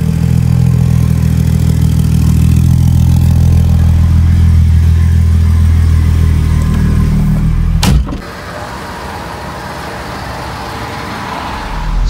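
A BMW E36 with a wool-packed exhaust silencer idles and revs loud and close, a deep steady drone that drops abruptly after a sharp click and settles into a lower, rougher running note.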